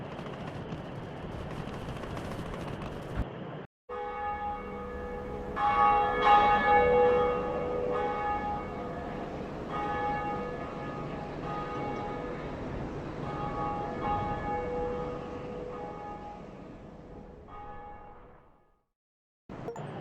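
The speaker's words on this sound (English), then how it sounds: "Now it's time to climb to the top of the bell tower, so we can ring the first Bell of Awakening." A large tower bell rings in the Dark Souls Remastered game, with repeated heavy metallic strikes whose long resonant tones sustain and overlap for many seconds, loud and reverberant, after a brief break in the sound.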